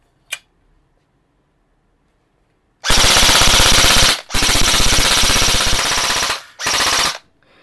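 An LCT STK-74 airsoft rifle fires on full auto in three close, loud rapid-fire bursts, a short one, a longer sustained one and a final short burst, each a dense mechanical rattle, after a single early click.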